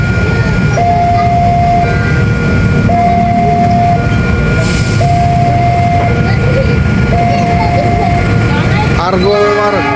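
A passenger train passes by in Cirebon, Indonesia, with a loud, close rumble of wheels and carriages and a repeated tonal signal that sounds several times at regular intervals.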